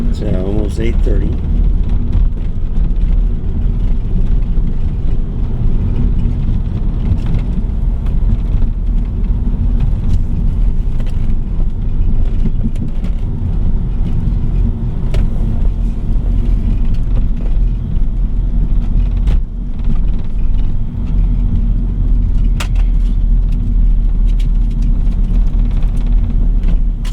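A car cruising along the road, heard from inside as a constant loud low rumble of engine and tires with light rattles, a person speaking now and then over the drone.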